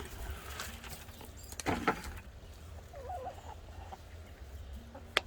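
Soft clucking from chickens nearby on a homestead, in a quiet outdoor setting, a few brief calls scattered over low background noise.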